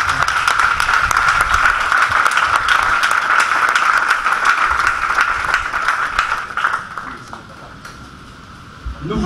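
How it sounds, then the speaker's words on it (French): A conference audience bursts into sustained loud applause and cheering, a dense roar of clapping that holds steady before tapering off near the end. "Est-ce qu'on peut acclamer encore le Seigneur?"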